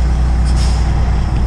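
A truck's air brake is applied while a tandem jeep and stinger rig sits idling with its PTO just cut, giving a steady, loud, low engine rumble and a brief hiss of air.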